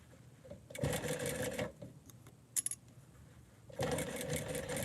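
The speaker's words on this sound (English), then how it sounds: "And then when you're sewing this, you don't want to pull or anything. Just gracefully sew." A sewing machine stitches pants during alterations, running in two fast, whirring bursts with a quieter gap and a few light metallic clinks between them, heard nearby without speech.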